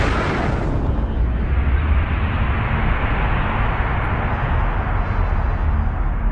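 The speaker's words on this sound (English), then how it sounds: "It started with a Big Bang." A huge explosion standing in for the Big Bang bursts out at the start and swells into a loud, continuous roaring rumble that fills the whole stretch without easing off.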